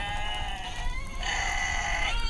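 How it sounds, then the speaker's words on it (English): A screaming goat sound effect plays alone, a single strained, wavering bleat lasting a couple of seconds, loud and close over a steady background hiss. "I'll send a screaming goat to help you get your education."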